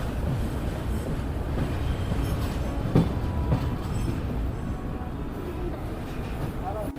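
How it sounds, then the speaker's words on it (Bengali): The Brahmaputra Mail passenger train pulls into Bongaigaon railway station with a steady, heavy rumble of rolling wagons, marked by a couple of sharp wheel clacks partway through. "দেখতে পাচ্ছেন বন্ধুরা, আমাদের ট্রেন এখন ঢুকছে বঙ্গাইগাঁও রেলওয়ে স্টেশনে"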